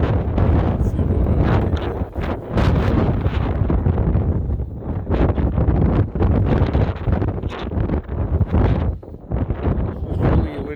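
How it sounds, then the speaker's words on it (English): Strong gusting blizzard wind roars and buffets a microphone outdoors in deep snow, a loud continuous rumble with surging gusts throughout. "It's really windy today."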